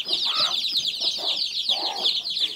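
Chickens and a brood of chicks on a farm: high, constant chick peeping runs throughout while hens give repeated low clucks in short bursts, close and fairly loud, with no talking.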